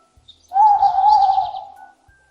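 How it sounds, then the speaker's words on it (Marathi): A single owl hoot, one sustained mid-pitched call lasting about a second and a half, clear and close against silence. "How does an owl sound?"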